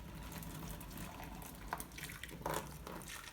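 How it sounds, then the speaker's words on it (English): Hot tea poured over paper in a sink, a steady splashing stream of liquid with a few brighter spatters, close and continuous with no voices. "I'm going to put super hot tea in there."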